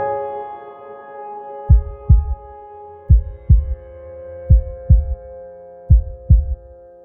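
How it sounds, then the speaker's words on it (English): A synthetic heartbeat sound effect thumps in four lub-dub pairs at an even pace over a low sustained hum, loud and close with no voices. "I have already added the heartbeat sound effects."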